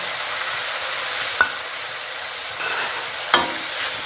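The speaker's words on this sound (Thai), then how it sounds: "ผัดคลุกเคล้าให้เข้ากันนะคะ" Crispy fried dolly fish tossed in a hot wok, a steady bright sizzle with two sharp scrape-clinks of the spatula against the metal.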